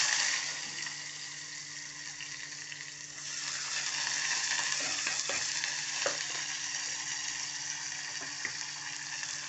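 Chopped onions sizzle and fry in a hot pan, a steady close crackle with a stir partway through and occasional scraping and clinks, no talking.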